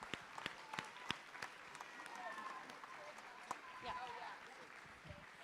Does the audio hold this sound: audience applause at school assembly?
yes